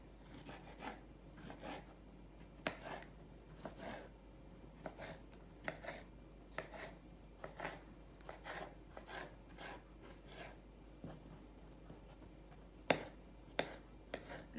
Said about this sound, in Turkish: Daha sonra aloe veramızı küp küp doğruyoruz.